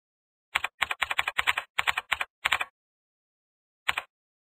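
Keys on a computer keyboard are typed in a quick run of clustered clicks, then a pause and one last keystroke, crisp and close with no voices.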